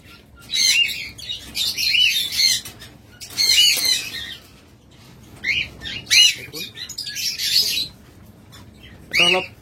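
Pied mask mutation pet birds, caged for sale, give shrill squawks and chirps in bursts, with some wing flapping between calls, loud and close.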